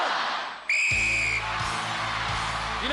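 A referee's sharp whistle blast starts a head-to-head event on the 1995 International Gladiators show. A crowd erupts into loud roaring and cheering that continues afterward.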